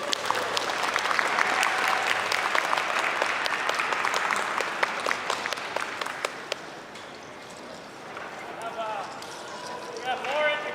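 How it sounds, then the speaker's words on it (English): An audience at an SFU ArtsLIVE performance claps loudly in a dense, sustained round of applause. The applause fades after about seven seconds, leaving scattered claps, a few cheers and people talking. "Let's give one more big round of applause for Alex Wells and Francis James."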